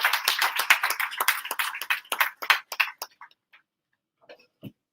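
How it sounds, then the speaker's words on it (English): An audience at the CDP 2026 launch event at Lendi Institute of Technology applauds in a dense, loud burst of clapping that thins into a few scattered claps and then fades out. "with a big round of applause"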